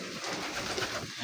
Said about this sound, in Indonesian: Ini merpati jenis Santinet ya.